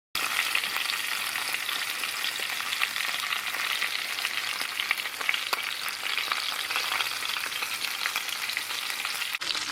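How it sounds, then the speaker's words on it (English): Lamb shanks brown in a hot pan, giving a continuous, dense sizzle and crackle with scattered pops, close and even throughout, without any voices. "over this sizzling as I'm browning my lamb shanks at the moment"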